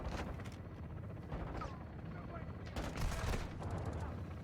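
Gunfire in the Call of Duty Modern Warfare 2 campaign, with repeated bursts of automatic shots and cracks scattered over a steady low battle rumble, moderately loud and partly mixed with game noise.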